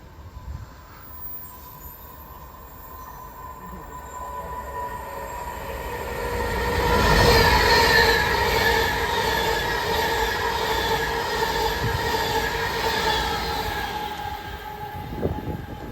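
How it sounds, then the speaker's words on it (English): A train rumbles past close by at Levenshulme on the West Coast Main Line Manchester branch, loud and steady, with wheel squeal and a rhythmic clatter of wagons; no talking. "What a good train."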